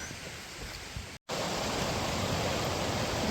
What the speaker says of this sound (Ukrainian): Ось тут річка тече